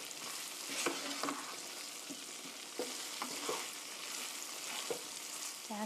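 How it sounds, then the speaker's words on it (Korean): Chicken with tomatoes and curry powder stir-fries in a pan, giving a loud, dense sizzle throughout with repeated scraping strokes of a spatula at irregular intervals. "이렇게 해서 3미닛, 3분 정도 볶아주세요"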